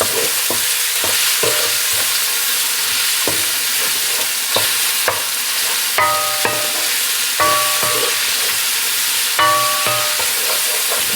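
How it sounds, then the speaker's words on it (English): Meat browning in a pan for a grilled chicken and pork belly sandwich, a loud continuous close sizzle with periodic stirring scrapes and metallic clinks, no talk. "what you wanna do is brown that meat up"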